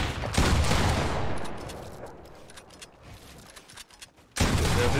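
Rapid SMG gunfire bursts from the video game Fortnite, loud at the start, thinning to scattered faint shots, then a sharp loud burst returns near the end.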